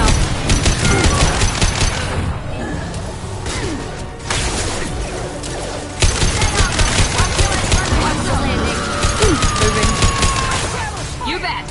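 Gunfire in Mass Effect, loud rapid bursts of automatic weapon shots in repeated volleys with brief pauses and clattering impacts, close and dominating, with a voice speaking briefly between the bursts.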